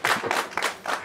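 A short burst of clapping from a studio audience on a television set at a special broadcast, a few distinct slaps in quick uneven rhythm, close and fairly loud.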